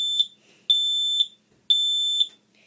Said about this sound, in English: You'll hear it still say carbon monoxide and fire.